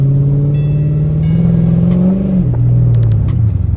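A Dodge Charger SRT engine revs hard and loud in a blizzard as the car slides through snowy intersections, a steady growling drone that rises and then drops in pitch, with no one talking.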